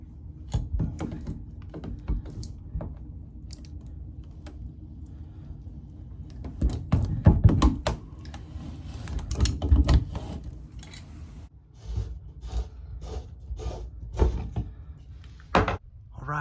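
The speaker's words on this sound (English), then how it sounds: "I'm going to stick the channel locks in there, spread it apart, and push against the side walls and unscrew it." Channel locks working loose a walk-in shower drain during a DIY replacement, heard as scattered metallic clicks, scrapes and knocks at close range, irregular and spaced out, with a few sharper taps toward the end.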